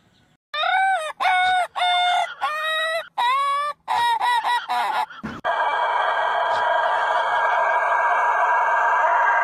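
A rooster crows in several loud, close, strained calls one after another, followed by a steady noisy background with no talking.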